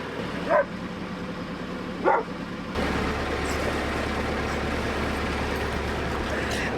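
A dog on a canal-side bank gives two sharp, separate barks at mid distance, then a steady low engine rumble takes over and continues to the end.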